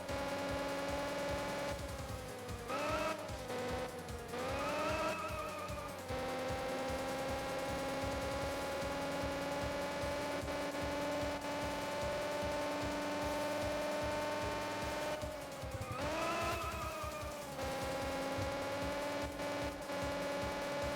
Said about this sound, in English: please enjoy the wonderful sound of this awful Honda